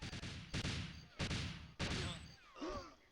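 Gun turrets firing in the GoldenEye video game: three or four sharp, loud bursts of gunfire in quick succession, each ringing out briefly, with a faint electronic whine near the end.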